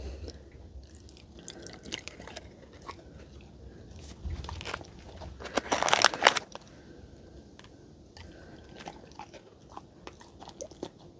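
A dog bites and chews treats up close, with soft, sporadic crunches and a louder burst of chewing partway through, in a quiet indoor room.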